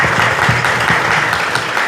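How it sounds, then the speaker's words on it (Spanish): A church-hall audience gathered for a bishop breaks into loud, dense applause, with many hands clapping together in a sustained, close wash of sound and no voices standing out. "Fuertes aplausos para Monseñor."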